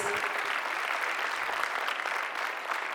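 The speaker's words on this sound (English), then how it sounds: "Let's give a round of applause." An audience at the launch of Rwanda's National Fintech Strategy breaks into sustained clapping, a dense, even wash of many hands that holds steady for the whole stretch with no one speaking over it.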